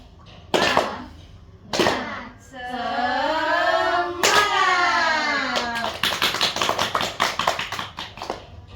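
Children in a classroom chant clap in rhythm: a few sharp claps, a sung drawn-out voice, then a quick burst of rapid, evenly spaced hand claps close by.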